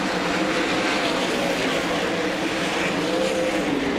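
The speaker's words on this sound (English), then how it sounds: "Taylor Prosser, this young Queenslander, in the Castrol Edge, number 91, also new car for him tonight" Race cars lapping the track during a Friday session at the 2024 Australian Grand Annual Classic, a steady, loud engine drone filling the whole stretch with no break, distant engines blending together and no talk over it.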